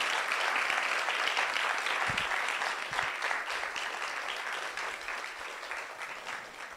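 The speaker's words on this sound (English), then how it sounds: "Please give Sir another big applause." Sustained applause from a seated audience after a talk, dense steady clapping filling the room throughout without any speech over it.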